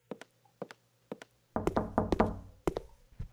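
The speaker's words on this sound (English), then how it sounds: "Somebody's a knocking." Knocking on a door inside a horror video game: a few separate knocks, then a loud run of rapid heavy thuds, then several more single knocks, close and with no talking.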